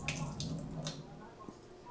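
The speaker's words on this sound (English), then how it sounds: "Gonna fill some water in there," Tap water runs into an open can of chickpeas to rinse them, a soft continuous splash and trickle that fades near the end.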